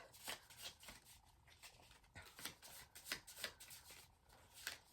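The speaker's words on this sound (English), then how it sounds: "It's the worst shuffling ever, guys." A deck of cards riffled and shuffled in quick, uneven bursts of crisp flapping, close by with no talking.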